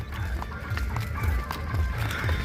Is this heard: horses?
yes